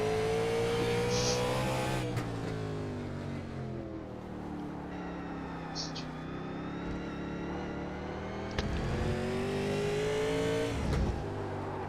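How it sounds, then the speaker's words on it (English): Race car engines at a Race of Champions round rev and pull hard through gears, a loud continuous howl rising and falling with sharp shift changes, close and dominant with no talk. "Listen to that. Listen to those engines."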